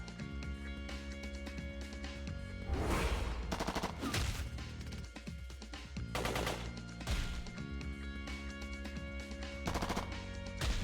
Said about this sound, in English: Just dump the whole magazine into this guy.